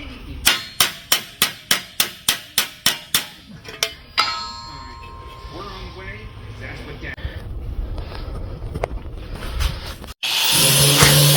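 Hammer blows on the metal bed and tailgate of a 1950 Ford F1 pickup, about a dozen sharp, evenly spaced ringing strikes close up, then a steady grinding-like rush of shop noise.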